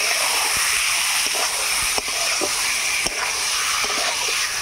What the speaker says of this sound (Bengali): এটা আগে ফ্রাই করে ভেজে নেব